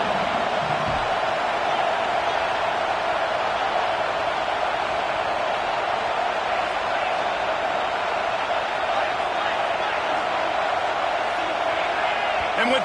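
Steady, dense stadium crowd roar from a College Football 26 game, Texas at Notre Dame, filling the whole stretch at constant loudness with a broad wash of voices and no clear breaks.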